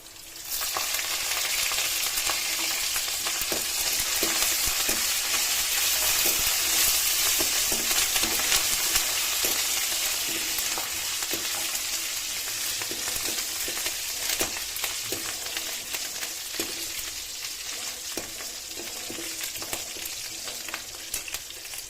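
Tempering sizzles steadily in a pan with sour greens (pullagura) added, a continuous close-up frying hiss broken by frequent soft crackles and stirring scrapes.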